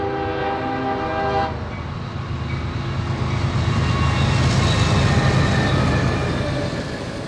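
CSX freight train M204 sounds a loud horn at first, then rolls past as a heavy, steady rumble with grinding rail noise that fills the rest of the passage.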